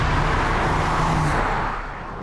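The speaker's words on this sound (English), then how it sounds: "One of my favourite parts of this car is the sound of the engine." A Ford Focus RS engine hums loudly with road and wind noise for a couple of seconds, fading slightly at the end.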